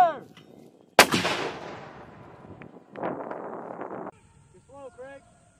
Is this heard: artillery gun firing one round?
yes